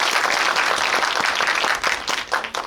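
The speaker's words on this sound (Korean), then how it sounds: "박수 한번 일단 네 부탁드릴게요." Audience applause fills a cinema during a film screening Q&A event, dense and steady clapping from a large crowd that thins slightly near the end.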